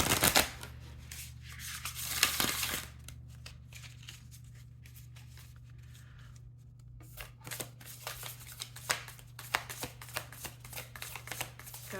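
Tarot cards being shuffled by hand, sticky cards riffling and sliding in bursts of papery rustling, with a quiet stretch in the middle and a low steady hum underneath.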